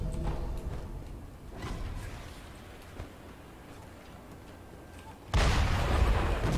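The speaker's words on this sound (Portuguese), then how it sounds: "O cara do canhão." A cannon booms in the video game Sekiro: Shadows Die Twice, heard as a few muffled distant shots over game ambience and then one loud, close blast near the end.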